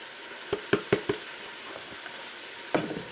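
Food sautes in a pan with a few scattered clinks and stirring knocks, four quick hits early, then a soft faint sizzle and another cluster of scrapes near the end.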